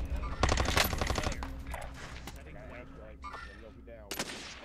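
Bursts of rapid automatic gunfire in the online shooter Warzone, loudest in a rattling volley near the start and another sharp burst near the end, with scattered shots and game sounds between, under a player's voice.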